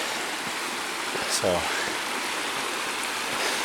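A mountain stream along the Navajo Lake trail rushes with a steady broad hiss of flowing water, close by, while someone speaks briefly over it.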